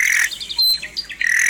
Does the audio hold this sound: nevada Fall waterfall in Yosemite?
no